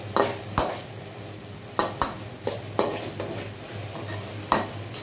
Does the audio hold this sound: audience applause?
no